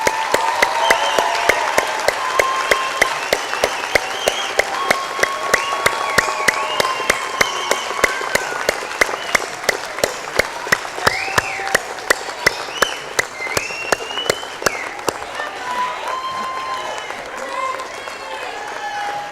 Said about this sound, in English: let's just applaud them one more time